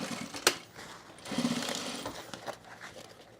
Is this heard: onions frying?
no